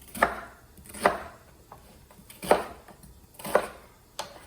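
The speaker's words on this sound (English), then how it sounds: "And I'm just going to coarsely chop this" A knife coarsely chops an onion for chicken stock, landing four or five firm thuds on a cutting board at an uneven, unhurried pace.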